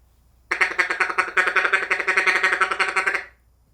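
A duck call blown in a steady, rapid run of short quacking notes, a continuous chattering feed call lasting about three seconds, close and loud.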